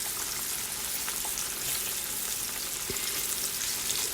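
Green tomatoes deep frying in hot oil, a steady dense sizzle and crackle that holds even and fairly loud throughout, with no voices over it.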